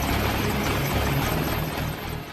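An Apache attack helicopter flies close and loud, its heavy rotor thump and turbine drone filling the air steadily and without pause.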